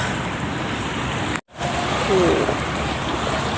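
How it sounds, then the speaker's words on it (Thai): Strong wind and rain at Lam Takhong dam during a storm with rough waves roar as dense, loud broadband noise, broken by a sudden brief dropout before the gusting wash resumes. "คลืนแรงลมแรงไม่สามารถตั้งกล้องได้จ้ะฝนฟ้าไม่เอื้ออำนวย มีฟ้าร้องด้วยจ้ะ"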